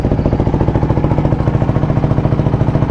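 A motorcycle idles after a cold start on its first run of the morning, a loud, close, steady engine putter with an even throbbing rhythm throughout.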